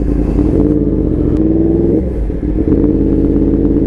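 A Yamaha MT-10 motorcycle idling and rolling at low speed off-road, a steady close engine rumble with pitch shifts and a brief dip as the clutch is pulled for a gear change.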